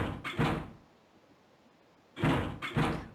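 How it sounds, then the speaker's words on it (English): Locked doors tried one by one in the game 999, two separate bursts of heavy door rattles and thunks with a quiet pause between them, close and loud. "Upon reaching them, they proceeded to investigate each door in turn"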